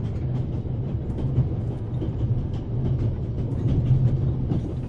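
Continuous low rumble of a moving train in the video game The Raven Remastered, a steady mechanical drone with faint rattling, no speech.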